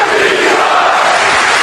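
Boxing arena crowd at a heavyweight world title fight between Vitali Klitschko and Derek Chisora, a loud continuous roar of cheering that fills the hall without a break.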